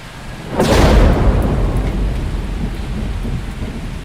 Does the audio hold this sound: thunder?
yes